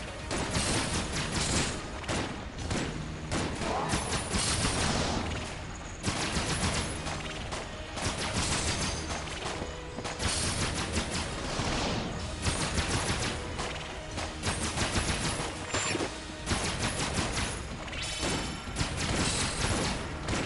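Rapid, dense gunfire from a trident weapon in Enter the Gungeon, continuous loud bursts of shots and impacts layered over game music and effects for the whole stretch.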